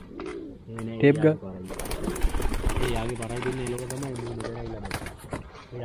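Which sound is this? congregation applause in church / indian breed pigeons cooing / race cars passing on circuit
indian breed pigeons cooing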